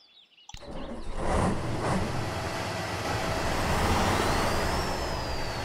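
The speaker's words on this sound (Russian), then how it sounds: "Давайте заведем данный автомобиль." A Tatra 815 4x4 Dakar rally truck's engine in the Spin Tires game cranks and catches, then settles into a steady loud rumbling idle close by, with a rising whine near the end.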